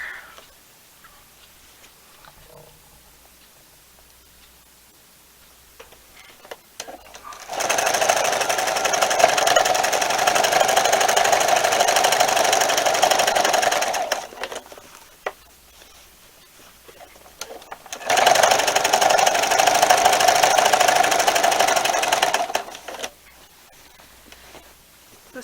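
A sewing machine stitches quilt binding in two long, steady bursts of rapid mechanical whirring, each lasting several seconds, separated by quiet pauses.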